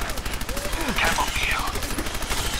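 Rapid bursts of gunfire from a weapon in the video game Fallout 4, fairly quiet and mixed under in-game sounds, with a brief rhythmic rattle of shots.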